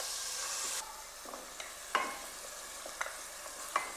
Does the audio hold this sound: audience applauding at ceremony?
no